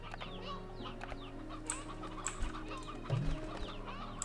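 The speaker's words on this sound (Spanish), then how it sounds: "Gallinas mayores." Hens cluck repeatedly in the farming game Slime Rancher 2, with several overlapping clucks and chirpy calls over a steady game music and ambience bed, plus a few louder thumps and pops near the end.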